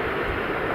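A Boeing 747 jumbo jet at Stansted Airport in London gives a loud, steady broadband engine roar, continuous and close for a short moment, with no voices.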